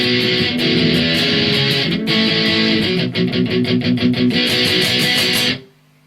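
An electric guitar plays a distorted, driving pop-punk pre-chorus riff with steady strummed and palm-muted chugging, loud and close, and then stops abruptly near the end.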